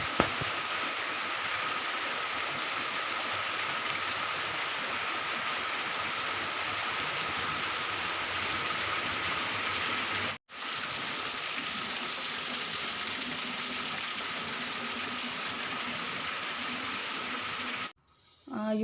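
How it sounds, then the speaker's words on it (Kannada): Heavy rain falls outside a home, a steady dense hiss lasting throughout at an even level, briefly cut off once near the middle and again near the end. "ಮಳೆ ತುಂಬ ಅಂದರೆ ತುಂಬ ಜೋರು ಬಂತು ಮಳೆ."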